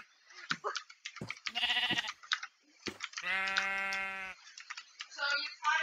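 Sheep in Minecraft bleating several times among clicks and short game noises, one long wavering bleat standing out clearly in the middle.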